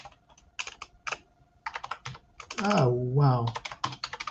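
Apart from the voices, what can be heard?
typing on a computer keyboard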